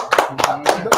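Applause from a small audience greeting the guests Them District Boys and Oren Zweig as they are introduced, four bursts of close, bright clapping over about a second.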